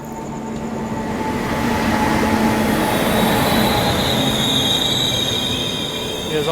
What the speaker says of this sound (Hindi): आ गई तेलंगाना एक्सप्रेस।